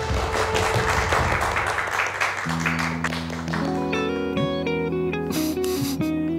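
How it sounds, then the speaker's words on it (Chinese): Audience applause welcoming a medical team onto a film set, a burst of clapping that fades after about two seconds as sustained music swells and takes over. "现在呢，我们用热烈的掌声欢迎王医生和他的团队"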